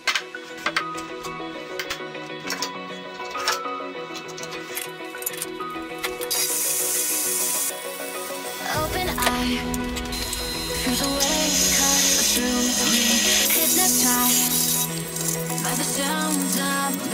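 A metal stub is ground off scrap steel during a bike rack build, an angle grinder whining and rasping steadily for several seconds with a loud, harsh, sustained hiss after an initial rattle of clatter.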